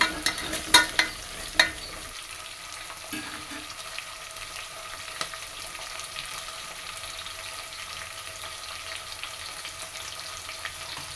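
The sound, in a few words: frying onion and jackfruit seeds in a pan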